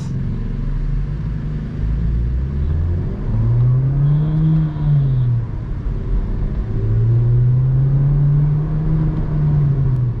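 A Skoda Kushaq 1.5 TSI petrol engine hums and rises in pitch as it accelerates, easing off and then climbing again, steady and close with no voices.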